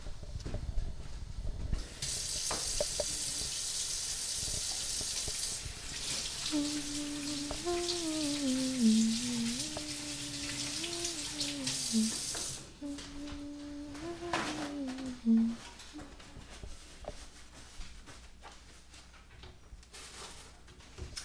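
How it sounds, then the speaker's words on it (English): A kitchen tap runs for several seconds while hands are washed beneath it, a steady close splash of water that cuts off abruptly, followed by quieter handling sounds and a faint tonal hum. "wash my hands"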